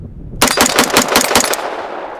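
Foxtrot Mike M-102 rifle firing a rapid burst of about eight sharp, loud shots in quick succession, followed by a fading echo.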